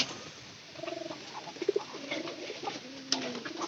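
Pigeons in a loft, many now laying eggs, give soft repeated throaty coos over a steady background hum, several birds overlapping at close range.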